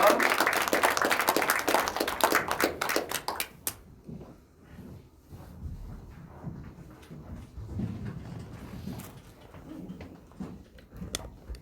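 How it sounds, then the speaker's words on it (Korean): Church congregation applause welcoming a saxophone mission team to the stage at a Thanksgiving service, a burst of dense clapping for about four seconds that cuts off into quiet room murmur and shuffling. "나오시도록 우리 박수로 우리 환영하도록 하겠습니다"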